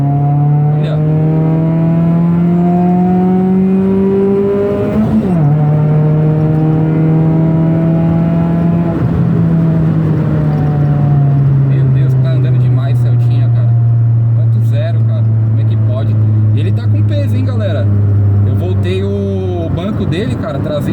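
A Chevrolet Celta 1.0 VHC-E with a cold air intake pulls hard through the gears. Its engine note climbs steadily and drops at the shifts, loud and close from inside the car, with a voice talking over it.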